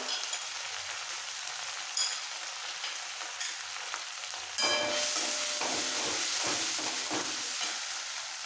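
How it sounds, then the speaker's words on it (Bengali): Chili, cumin and ginger paste for radish ghonto fries in a pan with a steady sizzle that swells louder near the midpoint as something is added, with scattered scraping stirs throughout. "মশলাটা কষানোর সময় অল্প করে জল দিতে হবে"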